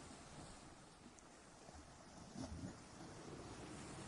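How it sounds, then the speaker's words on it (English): Ocean waves roll onto the beach at Nairn, Scotland in a soft, steady, distant rush of surf with wind-like hiss and a slightly fuller swell midway, quiet and unbroken. "The tide is moving slowly, each wave arriving with a quiet rush, then slipping back into the sea once more."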